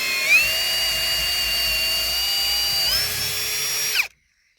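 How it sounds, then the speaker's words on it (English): A power drill whines steadily for about four seconds, boring a hole for a doorknob installation with a jig, shifting pitch once near the end before cutting off sharply to silence. "What size drill bit is that?"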